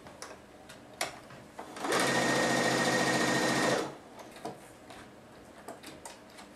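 A sewing machine stitching quilt seams runs in one steady, loud whirring burst of about two seconds, framed by faint ticks and small handling clicks before and after.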